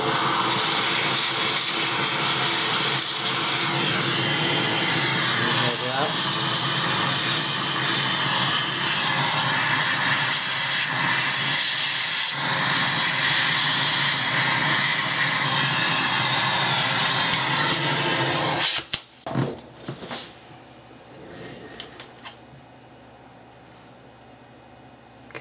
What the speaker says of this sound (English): I just use my Hoover.